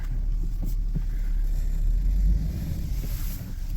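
An old vehicle engine running after two years unused, a low steady rumbling idle with a throbbing pulse, close and continuous throughout.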